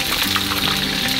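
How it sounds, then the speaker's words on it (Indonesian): Potato pieces for a stir-fried black pepper beef and potato dish sizzle steadily in hot oil in a pan, a loud, close, continuous crackling hiss with no talk. "kita masukkan dan kita akan menggoreng kentangnya"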